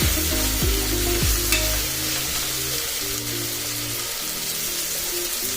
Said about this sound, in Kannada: ಮಿಕ್ಸ್ ಮಾಡ್ಕೊತಾ ಇದ್ದೀನಿ.